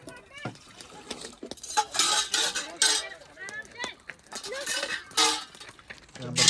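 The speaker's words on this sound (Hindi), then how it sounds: "बर्तन धुल रहे हैं।" Dishes, cutlery and pots clinking and rattling as they are washed outdoors at a hillside picnic, with bright metallic clinks scattered throughout and people talking over them.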